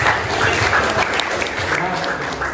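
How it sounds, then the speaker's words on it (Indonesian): Students clapping together in a high school classroom, a dense burst of applause that stays fairly steady for a couple of seconds. "Beri tepuk tangan."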